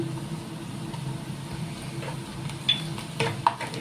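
Onion roasting in a pan with salt added, giving a low steady sizzle close by with a few light utensil clicks and scrapes toward the end.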